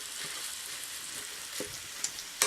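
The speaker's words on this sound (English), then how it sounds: "Once you've formed everything together, you can just break it up with a spatula." Steady close sizzling of a chicken and sausage meat mixture frying in a pan, with a few soft scrapes and taps as a spatula breaks it up and stirs it.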